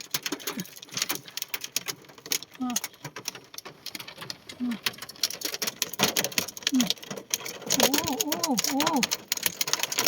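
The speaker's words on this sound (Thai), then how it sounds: "ลูกเห็บตก" Hailstones fall in dense, irregular rapid clicks and taps throughout, a steady close pattering while someone talks and makes drawn-out vocal sounds over it.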